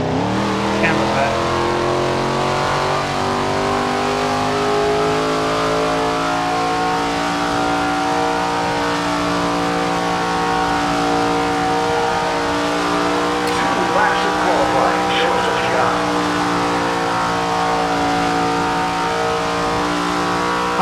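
A super late model race car in the SRX Racing video game drones steadily at high revs, its engine tone sliding slowly as it laps, loud and continuous throughout with faint talk beneath.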